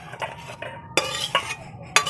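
Steamed ridge gourd with white sesame is tipped out of a cooking pan, a short run of metallic scrapes and sharp clinks of a utensil against the pan, close and uneven, with quiet gaps between strikes.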